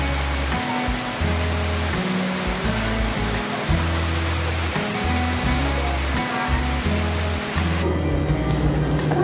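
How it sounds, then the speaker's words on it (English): A steady roar of falling water, loud and continuous like a nearby waterfall, with a low rhythmic thumping underneath, at Adventure Isle in Adventureland, Disneyland Paris. "we are greeted with a waterfall."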